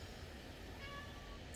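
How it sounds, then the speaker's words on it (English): A house cat meows at a door with a single faint, drawn-out meow over steady low background hum, heard from some distance in a quiet room at night. "You can hear my cat meowing at the door"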